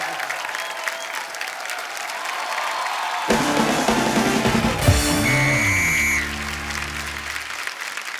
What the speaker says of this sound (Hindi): थैंक यू, जोरदार तालियां।